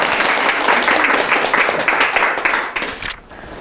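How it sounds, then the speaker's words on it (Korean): An audience gives loud applause during a saju lecture, a dense burst of clapping that holds steady and then tapers off abruptly near the end. "저 동의해 주시면 박수 크게 한번 해주세요"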